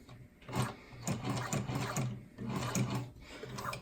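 A sewing machine runs in steady bursts, stitching adjustable material with a close, rapid mechanical chatter that pauses briefly and starts again.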